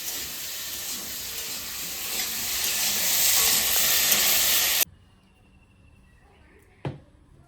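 Pipul greens with shrimp, salt and turmeric sautéing in a pan, a loud steady close sizzle for several seconds that cuts off abruptly, followed by a quiet pause and a single sharp knock.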